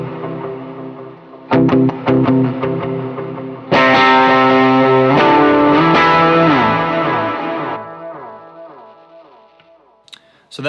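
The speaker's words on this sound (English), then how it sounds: "Here's with some delay and reverb." An electric guitar with a stage one overdrive tone runs through delay and reverb, with picked notes and then a long sustained chord whose echoes trail off into quiet repeats.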